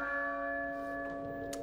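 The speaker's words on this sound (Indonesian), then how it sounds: "Bel kedamaian." Church bell ringing in the survival horror game Resident Evil 4, a single sustained, resonant bell tone with steady ringing overtones that holds and slowly decays.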